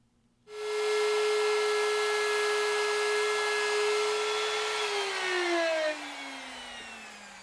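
A wood router cuts a test pass of a binding channel along a guitar body edge, a loud steady high whine starting after a brief quiet moment, then dropping in pitch as the bit loads and spins down near the end.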